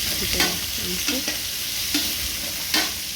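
Mustard seeds and cumin fry in hot oil in a kadai for a leafy-greens tempering. A steady close sizzle runs throughout, with several sharp pops and crackles spaced out across it.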